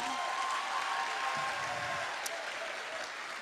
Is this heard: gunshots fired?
no